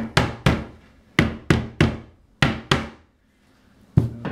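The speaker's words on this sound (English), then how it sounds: "I'll seat it and then hammer it in." A side panel of a Conestoga RTA cabinet is hammered into place with a string of sharp, close wooden knocks in an uneven rhythm, a brief pause, then two more blows.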